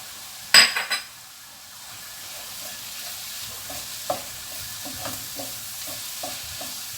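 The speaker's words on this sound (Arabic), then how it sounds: "شوفوا هذا الزيتون كيهبط مزيان تا هو تيتشحر" Olives and vegetables sizzle softly in a pot, with a sharp metallic clank of a spoon at the start followed by intermittent light scraping and stirring taps against the pot.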